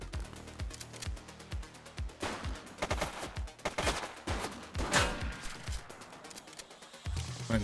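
A suspect in the police game The Precinct opens fire in a rapid volley of sharp gunshots, dense at first and then scattered, with some bursts echoing, loud and close.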